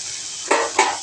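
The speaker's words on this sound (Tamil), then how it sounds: "இதை ஒரு 5 நிமிஷம் நல்லா வதக்குவாங்க." Steady sizzling hiss of finely chopped beetroot sautéing in a pan, with two brief scraping stirs of a spatula against the pan.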